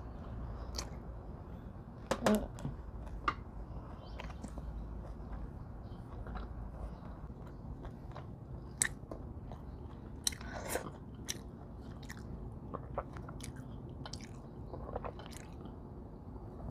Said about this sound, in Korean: 마지막 남은 하나는 라면에 싸서 먹겠습니다